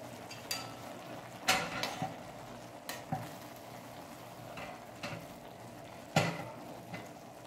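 White sauce spaghetti simmers in a single pan with added water, salt and chilli, giving a soft continuous bubbling with occasional stirring clinks and scrapes at irregular intervals.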